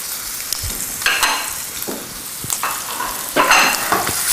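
Flour-coated chicken pieces brown in a pan over medium-low to medium heat, giving a steady, close sizzle and crackle with a few louder spitting bursts, alone without talk.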